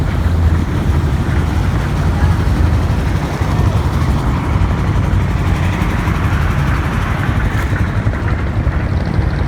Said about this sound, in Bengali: এই যে আমার পাশে দিয়ে একটা ইয়ে যাইতেছে বোট যাইতেছে